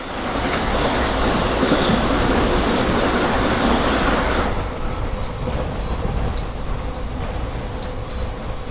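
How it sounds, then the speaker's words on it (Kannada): The Thiruvananthapuram Central–Mangaluru Vande Bharat Express rushes past, a loud, dense roar of wheels and air that eases slightly halfway through as rhythmic rail clatter continues. "Thiruvananthapuram central Mangaluru Vande Bharat express."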